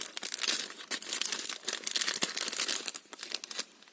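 A package is torn open by hand, its plastic wrapping crinkling and rustling in a dense stream of crackles and small tears, close and moderately loud, with no voice.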